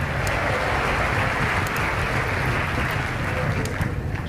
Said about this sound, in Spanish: No tenían que aplaudir eso, ¿eh?